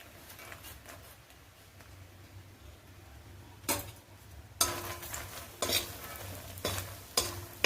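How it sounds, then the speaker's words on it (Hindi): Makhana (fox nuts) dropped into hot ghee and frying while being stirred, a soft crackling sizzle with a few louder clattering stirs in the second half, no talk. "घी गर्म हो चुका है, अब हम इसमें डाल देते हैं मखानों को।"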